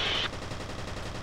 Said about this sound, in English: I think I'm using the submachine gun.